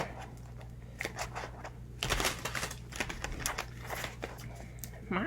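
Tarot cards are shuffled in quick riffling bursts, crisp fluttering snaps repeating several times close by over a faint background hum.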